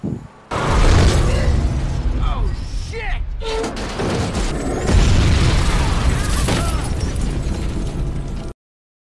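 A car overturns and explodes in the film Now You See Me: a loud explosion bursts out after a brief pause, followed by roaring debris, crackling and rumbling that carry on until an abrupt cutoff.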